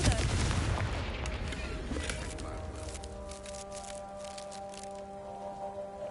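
In the video game Hogwarts Legacy, the Confringo spell is cast with a sharp explosive burst, followed by a ringing, tonal magical decay and scattered crackles at moderate loudness.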